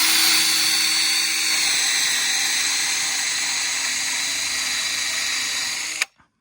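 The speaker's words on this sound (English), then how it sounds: "Now that it's drilled through, I reverse it and drill it back." A power drill runs steadily in reverse, backing the bit out through a wooden bridge timber drilled for a bolt, a close whining hum for about six seconds before stopping abruptly.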